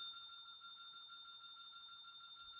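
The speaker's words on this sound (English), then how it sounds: "Hold on, guys. This alarm is just." An alarm rings in a steady, continuous electronic tone that holds unchanged at a moderate level throughout, with no talking over it.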